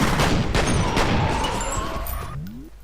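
A loud, dense blast of grenade explosion and gunfire noise in the video game F.E.A.R., rumbling broadly and fading over a couple of seconds.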